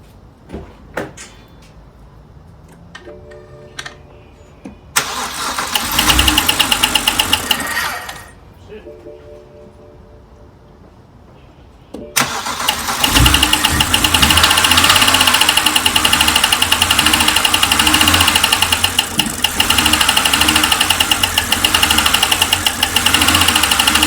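A BMW E92 325i with a failed DISA valve and a suspected noisy lifter cranks over twice, catches on the second try and settles into a loud, steady idle with a persistent tick, close up and without talk.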